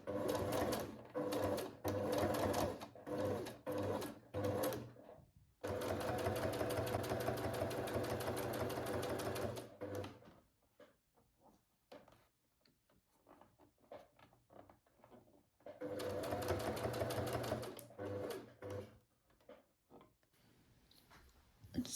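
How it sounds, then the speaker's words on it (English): A sewing machine stitches a fabric strap for a cropped garment, running in steady bursts: short stops and starts, then a long continuous whir, a quieter pause with faint handling, and another sustained run, fairly close and loud. "So we're going to sew this strap up."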